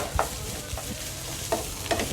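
A spoon stirring carrot halwa in a pan, giving a few scattered scrapes and soft knocks over a low, steady sizzle, close and fairly quiet.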